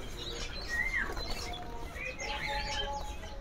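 A male cucak bird sings bright chirping and whistled notes, a few short phrases over faint background noise.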